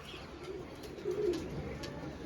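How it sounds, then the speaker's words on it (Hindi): A pigeon gives a single soft coo midway through, faint against quiet background ambience. "बहुत अच्छा ब्रीड पिजन है जी।"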